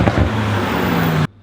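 A BMW M5 Competition cruises in its efficient comfort mode with the exhaust valve closed, giving a steady low engine hum with road noise that cuts off abruptly near the end.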